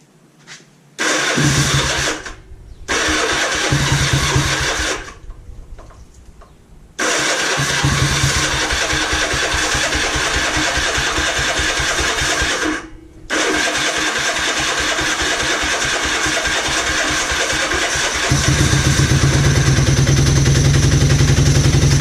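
Kawasaki KZ400 motorcycle engine cranking and firing after two years unused, with choke on and fuel problems: repeated loud starter bursts with short pauses, then the engine catching and running roughly before revving higher near the end.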